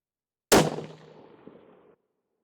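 A single loud rifle shot fired from a barricade at a target, a sharp close crack followed by a decaying ring and a faint later tick of the steel impact.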